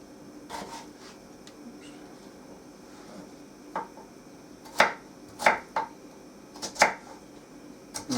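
A knife chops root vegetables into chunks on a board, with sparse, irregular sharp cuts that grow more frequent in the second half, close and fairly quiet.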